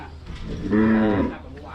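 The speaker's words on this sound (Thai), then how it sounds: "นี่เป็นวัวฝากที่จะพร้อมเข้าขุน ชาโลเล่พร้อมเข้าขุนครับ" Charolais cattle at a Thai livestock market give a single loud, close moo lasting about half a second, with steady market background noise underneath.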